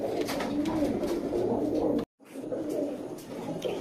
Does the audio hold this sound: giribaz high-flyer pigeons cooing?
yes